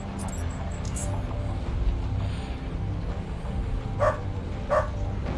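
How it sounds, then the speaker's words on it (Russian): Dogs barking behind a locked door in the video game UnderRail, with a few muffled barks over steady ambient background hum, two sharper barks standing out near the end. "Я слышу собак."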